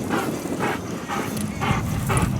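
A dog barking in a city park, five rhythmic barks at roughly half-second intervals, moderately close over outdoor background noise.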